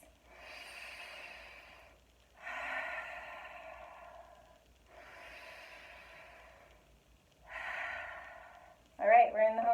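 Long, deep breaths drawn slowly during a gentle Pilates stretch, four drawn-out airy breaths close to the mic with short pauses between, followed by a brief voiced sound at the end.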